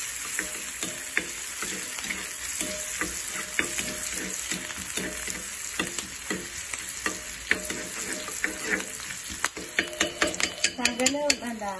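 Shallots sizzle and crackle in hot coconut oil in a pan, a continuous frying hiss with rapid popping spatters that grow sharper and more frequent toward the end, heard up close and without talk.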